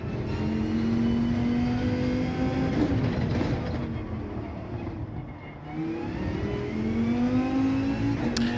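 A Dodge Viper Gr.3 race car engine in Gran Turismo 7 on Deep Forest, loud and close, revving up through the gears, easing off mid-clip, then climbing again in a long rising whine.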